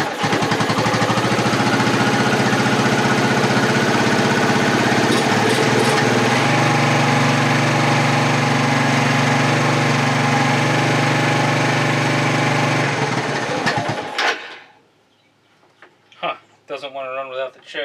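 A 1985 Suzuki Quad Runner 250 engine runs on choke with a loud, steady buzzing putter close by, then shuts off near the end, leaving brief faint clicks and rustles.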